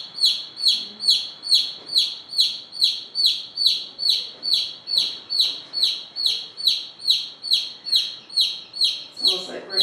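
Loud birds chirp outdoors in a steady, rapid repeating pattern of high calls that continues throughout, with faint voices underneath and a brief rustling noise near the end.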